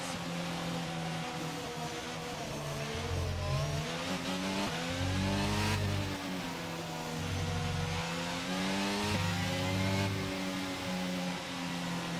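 Several F1 cars in the F1 22 game rev their engines on the starting grid in repeated rising and falling bursts, a steady loud droning blend with pulsing throttle blips and no speech.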